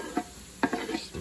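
Onions and garlic sizzle softly in a pan, with a few brief stirring scrapes and clinks over a steady low frying hiss, close and fairly quiet.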